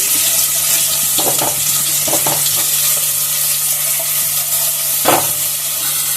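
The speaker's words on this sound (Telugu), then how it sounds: "ఆయిల్ తీసుకొని ఆనియన్స్ పచ్చిమిర్చి వేసి ఫ్రై చేసేస్తాము" Onions, cumin and green chillies fry in oil for a drumstick curry, a steady close sizzle broken by a few scraping stirs of a spoon, with no voices.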